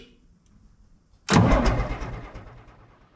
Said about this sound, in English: If I unplug the fuel shutoff solenoid, I can crank the engine over.